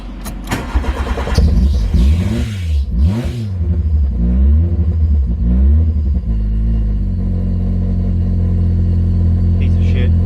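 A Toyota AE86 fitted with new coilovers pulls off on a test drive, its engine starting and revving hard, then settling into a steady loud rumble of the car under way, with talk over the engine at the start.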